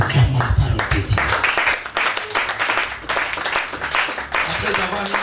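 A church congregation claps and applauds in a dense, continuous patter of hands, with voices mixed in underneath.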